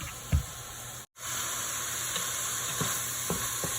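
Taco meat browning in a frying pan gives a steady, close sizzle and hiss, broken by one brief silent gap, with a few soft stirring knocks scattered through.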